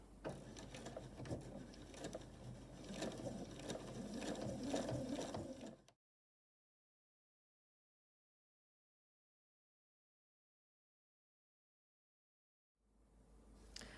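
A sewing machine stitches binding onto a quilted braided table runner, running in a close, steady rattling burst for several seconds, then dead silence before a faint return of mechanical sound.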